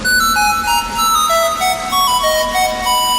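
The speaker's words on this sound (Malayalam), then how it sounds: "അതോടൊപ്പം കോളും വന്നു." A phone ringtone for an incoming call plays as a bright synthesized melody of stepping tones over a steady background, loud and continuous, heard during a school annual day stage performance.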